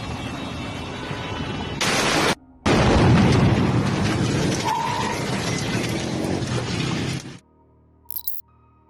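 A street explosion in Guayaquil, Ecuador: a loud, sustained burst of blast noise and rumbling debris with several abrupt cuts and a brief dropout, fading to near quiet at the end.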